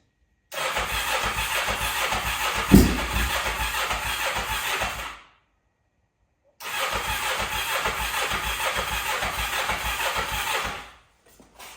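A 500cc mini bike engine with rejetted carburetors cranks over twice in long, steady bursts of several seconds each, separated by a pause, and never catches. It is close and loud, with no talking.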